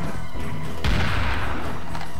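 Rocket launcher firing in the shooter game Serious Sam: The First Encounter, a single loud booming blast that bursts in partway through over constant game noise, with a low rumble trailing after it.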